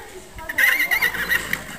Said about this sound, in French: Il y a des chevaux, ouais.